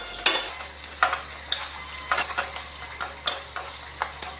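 Chana dal paste sautés with turmeric and black cumin over a low flame, stirred in a pan held with tongs. Steady scraping strokes come at an uneven rhythm over a low sizzle, close and clear, with no talk.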